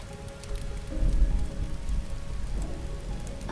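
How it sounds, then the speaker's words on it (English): Steady rain patters on a surface with a low, rolling rumble of thunder beneath it, a continuous wash of sound with no voices. "And the rain and the thunder."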